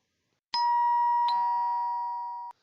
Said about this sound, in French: C'est la sonnette de la maison.